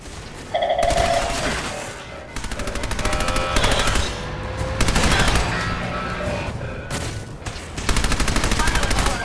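Rapid bursts of automatic gunfire fill a Fallout 4 battle against robots during the Silver Shroud quest. Loud, dense rattling volleys come in several close bursts separated by brief pauses.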